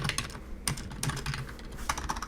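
Keystrokes tapping on a computer keyboard while coding a binary tree problem, a quick irregular run of close, clear clicks over about two seconds, with no talking.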